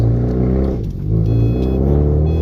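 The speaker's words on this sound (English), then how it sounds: "we're driving David's car right now" A 2013 Subaru WRX engine on the move gives a loud, steady, close drone with rich low harmonics. It dips briefly near the one-second mark, then holds its pitch.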